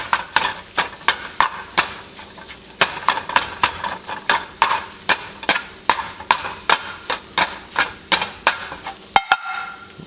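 Rhythmic chopping taps of a utensil striking a pan, steady and close, over a soft sizzle of scrambled eggs cooking, no talking.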